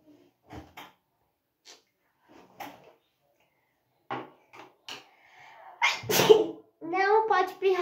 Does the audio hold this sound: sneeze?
yes